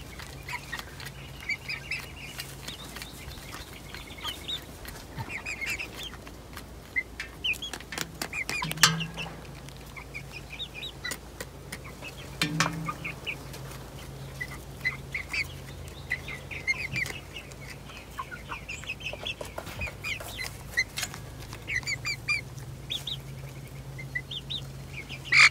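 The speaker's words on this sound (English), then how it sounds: "Kind of fun to come in here and watch these chicks as they play around, explore their new environment." Young chicks in a coop, an Australorp among the flock, cheep and peep steadily in soft, high chirps while faint scratching and pattering move through the litter, with no talking.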